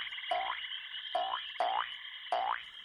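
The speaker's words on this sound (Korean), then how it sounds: "개구리가 다가왔어요. 개굴." A frog croaks in a children's story, four close, springy croaks with a twanging rise, spaced unevenly and heard alone.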